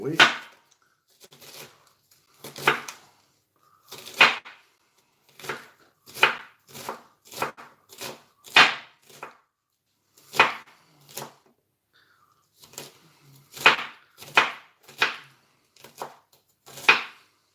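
A knife chops food into small sticks on a cutting board, with sharp, close, irregular thuds coming in short bursts and pauses in a home kitchen.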